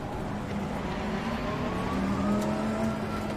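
Race car engine in Assetto Corsa Competizione, with Lamborghinis among the field, droning steadily at low speed in a constant loud hum with slowly shifting pitch, no talk.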